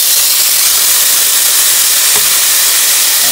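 A steak flipped in a hot pan sizzles in a loud, steady, close hiss that holds unbroken throughout, with a faint clink near the middle and no talking.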